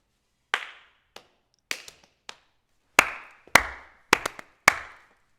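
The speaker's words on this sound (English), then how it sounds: "Clap clap clap." Sharp hand claps in a playful rhythm game from a kids' music class, about eight crisp separate claps, a few sparse and then a quicker closing pattern, loud and close, with silence between and no talk.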